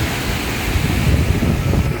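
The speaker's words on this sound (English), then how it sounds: "as you can see, the water is flowing really hard" Water surges hard out of a lava-tube cave at the Natural Bridge along the Rogue River, a loud continuous rushing roar with no pauses.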